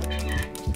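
A cartoon chicken in the video game Donut County gives two quick low clucks within a second, close and clear over a soft game backdrop.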